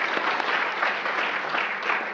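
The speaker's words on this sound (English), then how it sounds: "let's give them a round of applause" An audience claps steadily through a community health talk, a dense, even wash of applause from a sizable crowd with no voices over it.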